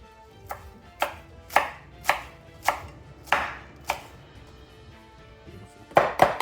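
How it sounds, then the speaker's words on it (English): A knife chops fresh coriander in half on a cutting board for pico de gallo, about seven crisp, evenly spaced strokes, then a quick cluster of cuts at the end, close and clear with no talk. "we are going to add our coriander. So we're going to just chop it in half like that."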